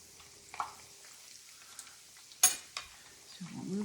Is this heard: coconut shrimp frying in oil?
yes